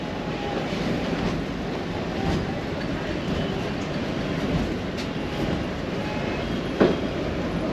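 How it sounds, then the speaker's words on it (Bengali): A local passenger train between Dhaka and Narayanganj, in Bangladesh, rumbles along in a continuous steady roar with faint rhythmic clatter throughout, heard close up and unbroken. "ত্রিশ সেকেন্ডের মধ্যেই রওনা দিল ট্রেন আবার নারায়ণগঞ্জের উদ্দেশ্যে"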